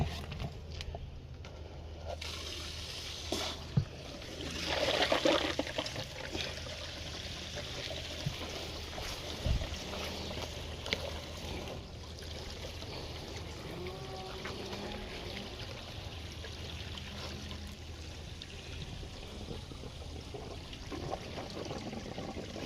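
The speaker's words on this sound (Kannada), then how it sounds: "ನೀರು ಬೀಳ್ತಾ ಇದೆ ಇಲ್ಲಿಗೆ" Irrigation water runs through opened gates in a banana plantation, a steady low rush and trickle that continues the whole time with a few faint knocks and handling noises.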